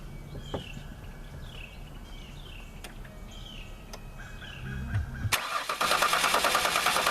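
A 2001 Ford Escape with a suspected bad fuel pump cranks without starting, the starter churning loudly and steadily near the end after a quiet stretch with faint birdsong outside.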